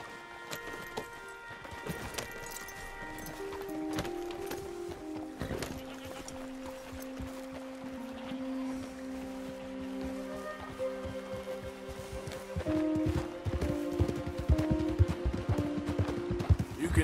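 Horses in Red Dead Redemption 2 clip-clop along at a walking pace, with steady hoof beats under in-game music and occasional voices.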